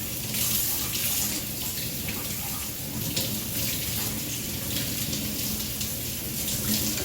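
Cold tap water runs steadily over cured pork belly being rinsed in a sink, a broad continuous splashing hiss from start to finish with faint shifts as the meat is moved under the stream.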